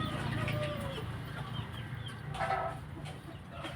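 Hens cluck faintly at a poultry yard, soft irregular clucks and a brief louder call midway over low background rumble.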